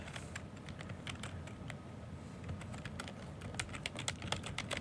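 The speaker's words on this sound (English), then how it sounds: "I'm gonna finish typing this note before I forget." Rapid, irregular keystrokes on a computer keyboard, with bursts of close clicks and clacks over a steady low background hum throughout.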